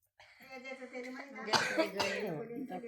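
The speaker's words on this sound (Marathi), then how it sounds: "खोकला आला ना" A few harsh, close coughs burst out around the middle, mixed in with a voice singing a devotional bhajan.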